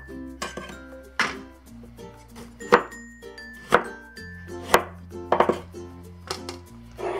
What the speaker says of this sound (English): all we need to do is quarter the tomatoes